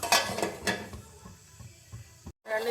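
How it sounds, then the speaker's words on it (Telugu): A metal lid clatters onto a cooking pot of tomato rasam, with a few sharp clinks and rattles up close and then quieter knocks as it settles. "కొద్దిసేపు మూత పెట్టుకుందామండి మగ్గుతుంది"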